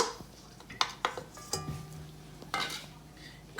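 Butter and oil being creamed in a bowl, a series of irregular scraping and clinking strokes of a utensil against the bowl, close and quiet with no voices.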